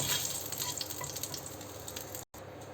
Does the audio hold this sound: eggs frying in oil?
yes